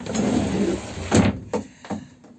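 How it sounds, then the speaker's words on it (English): A door on a boat is slid and shut, producing a few short bumps and a final thud after a rustling shuffle, close and fairly soft with no talk. "Shut the door again."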